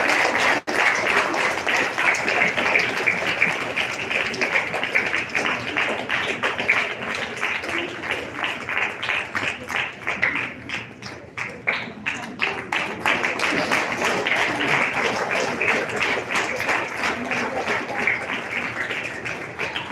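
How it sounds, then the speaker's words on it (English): A congregation at a Mass applauds the sisters with sustained, rhythmic clapping, many hands beating in loose unison, loud and steady, dipping briefly midway before swelling again and continuing to the end. "Please clap your hand for all these sisters."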